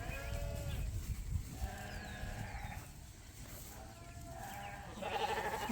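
Several sheep bleat repeatedly at a Canadian sheep auction, with wavering calls from varying distances over a steady noisy background, moderately loud and without talk.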